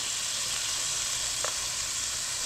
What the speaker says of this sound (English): I'm going to add my reconstituted onions to the pan. First we're going to saute them